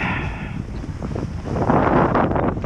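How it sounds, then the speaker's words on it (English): Wind blusters steadily across an outdoor microphone on a cold 47-degree day beside a Tillotson 212E Mokai conversion, a continuous loud rumbling roar that swells slightly toward the end, with no talk. "It's got a little bit of a wind."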